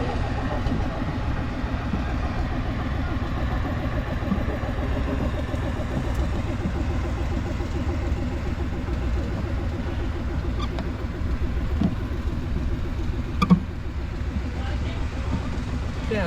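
A steady low engine drone runs throughout, a motor chugging at a constant idle with faint voices underneath.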